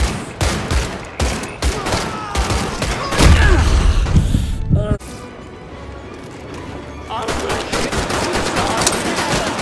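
Gunfire in the video game Medal of Honor Above and Beyond: rapid bursts of shots and heavy impacts, loud and close, with a louder barrage midway, then continued firing; someone talks over part of it.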